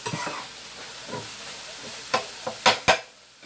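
Taco filling with Creole seasoning sizzles in a pan, a soft steady frying hiss punctuated by a few sharp scraping stirs near the end.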